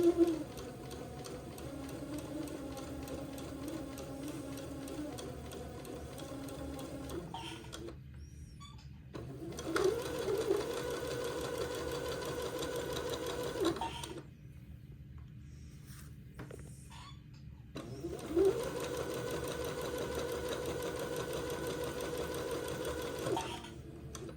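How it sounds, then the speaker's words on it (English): Domestic sewing machine stitching a narrow French seam about 3/16 inch from the edge on a baby raglan garment, running in three steady whirring bursts separated by short silent pauses, close and clear with no talk. "So I'm just sewing at about 3/16 of an inch. To keep my little French seam as small as possible."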